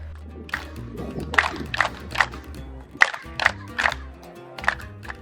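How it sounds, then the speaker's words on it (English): Hand claps ring out in front of the limestone steps of the Chichén Itzá temple, several separate sharp claps, each followed by a brief chirping echo, heard over crowd murmur and distant voices. "The sound rings and scatters against the limestone steps in a way that is said to sound like the Quetzal bird"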